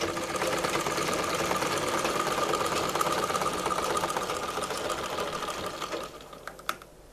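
A sewing machine stitches a six-panel petticoat, its fast, steady needle chatter running close for about six seconds before trailing off, followed by a sharp click.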